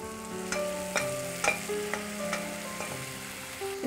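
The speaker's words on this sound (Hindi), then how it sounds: "अब हम इसमें डालेंगे दाल जो हमने पकाई है" Cooked dal being added to sautéed onions in a pan for Indian dal pakwan chaat and stirred, with a steady sizzle and several sharp spoon scrapes and knocks against the pan at an even rhythm.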